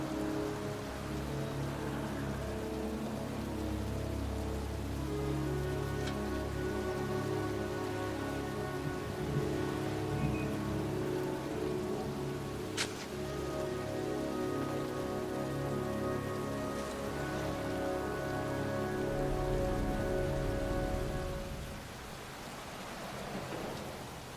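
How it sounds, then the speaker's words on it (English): Heavy rain pours steadily over a cemetery in the video game Heavy Rain, a dense, constant hiss with faint distant rumbles and low tonal music underneath. "here I am, standing in a cemetery in pouring rain"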